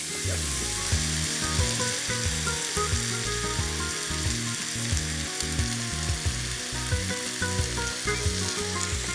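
Chicken pieces sear in a hot pan for a party paella, a loud steady sizzle and crackle running throughout with occasional scraping stirs, while music plays underneath.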